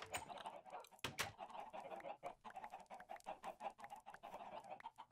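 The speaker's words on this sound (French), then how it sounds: "Il y a 6 poulets." Several chickens in the video game Minecraft cluck continuously and fairly close, a busy overlapping stream of short clucks with a couple of sharp louder bursts near the start.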